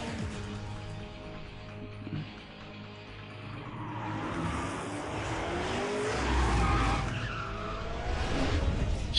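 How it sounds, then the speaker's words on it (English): A small Mazda in a Need for Speed racing game, its engine droning as tires squeal and skid in long sweeping slides that swell louder toward the end. "Little Mazda sounds like shit."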